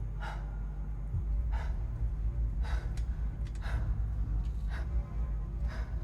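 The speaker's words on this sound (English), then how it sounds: "He starts to panic. The breathing gets faster." Panicked breathing from a character in the series Dark, a run of sharp gasps and heavy breaths recurring under a low rumbling background, loud and close, with the breaths coming in bursts.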